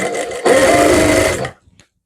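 A sewing machine stitches the folded hem of a two-colour kurti's lining, a loud steady whirring burst of about a second after a brief start, then stopping abruptly, with no talk.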